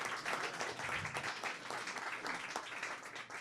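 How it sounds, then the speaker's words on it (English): A crowd at a startup pitch event gives a round of applause for the startups, fairly faint, dense clapping sustained throughout. "Let's have a huge round for the startups for all of their efforts"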